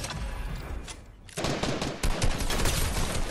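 Rapid, dense gunfire in a Fortnite battle royale match during an Asia Winter Royale tournament, loud bursts running almost continuously with one brief lull before resuming even harder.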